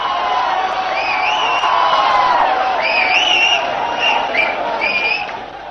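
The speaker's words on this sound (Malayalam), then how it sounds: "ഈ കയ്യടി മൊത്തം എനിക്കാണ്." A packed cinema audience erupts as a film plays, with a dense roar of cheering, high whoops and whistles riding over continuous crowd noise, loud and sustained throughout.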